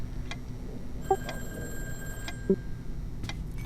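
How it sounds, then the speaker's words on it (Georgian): A telephone rings in the horror video game Darkhours, with short repeated bell-like trills at a steady rhythm over a low background hum and no talk. "ტელეფონი სად რეკავს?"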